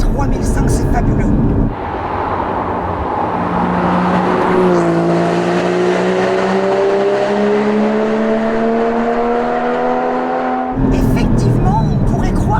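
A Porsche Cayman GT4 engine accelerates at high speed, a loud steady roar whose pitch climbs smoothly through one long gear for several seconds, with wind and road noise underneath.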